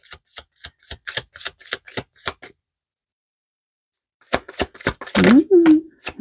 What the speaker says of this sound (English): You can fast forward through the shuffling if you don't like it.